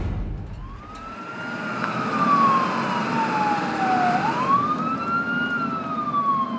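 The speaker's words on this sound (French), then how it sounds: "camion de pompiers qui passe à côté de nous" Several fire truck sirens pass through stalled traffic, a loud wailing tone sweeping up and down and shifting in pitch as the vehicles go by, over a steady road rumble with no talking.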